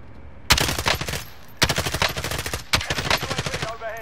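Automatic gunfire in a video game shooter, three loud close bursts of rapid shots separated by brief gaps, with faint voices underneath.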